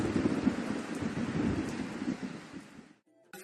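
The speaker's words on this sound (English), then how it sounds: "Now it's starting to rain" Rain in the video game Raps: a dense, steady patter with low rumbling underneath that holds for about three seconds, then cuts off suddenly into near silence.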